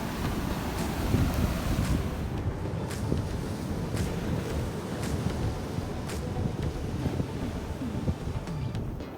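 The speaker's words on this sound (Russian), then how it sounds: "Я люблю наблюдать за мощью океанских и морских волн" Ocean waves crashing on the Tenerife shore, a rumbling surge of surf with heavy wind buffeting the microphone and scattered sharp splashes, loud and continuous.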